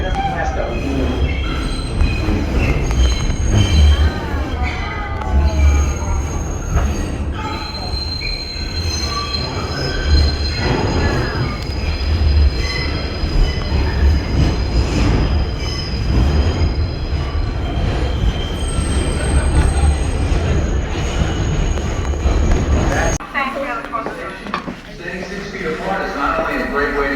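A New York City subway train rounds the loop, its wheels squealing loudly and continuously over a heavy rumbling roar, heard up close from inside the car with people talking underneath.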